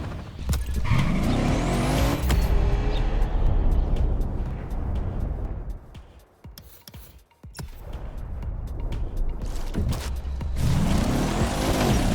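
A Mercedes-AMG One hypercar's engine in The Crew Motorfest racing game, loud and roaring with revving sweeps at the start and end, easing off to a quieter lull in the middle.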